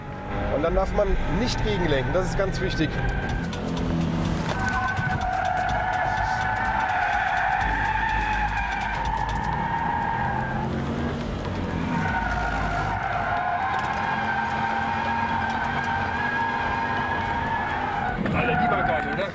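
Subaru Impreza WRX STI drifting, its engine revving in long rising and falling pulls while tires skid and squeal, loud and close, with someone talking over it.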